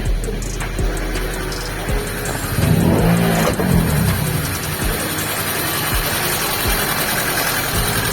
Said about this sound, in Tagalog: kung matitinig nyo, sobrang lakas ng ingay niya. Ayan o, parang diesel yung tunog.